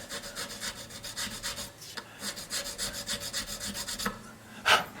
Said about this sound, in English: I just take my little fret file